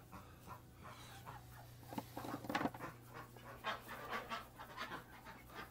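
A dog pants quietly indoors, steady rhythmic breaths near the listener with a low household hum beneath and a few brief shuffling sounds.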